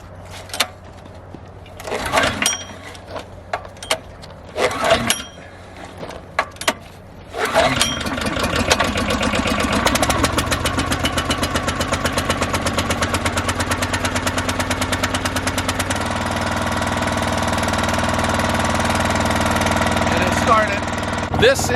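A Briggs & Stratton engine on an Easton-made unit cranks over several times with short pulls, then catches and settles into a steady, loud, even idle while warming up in the cold.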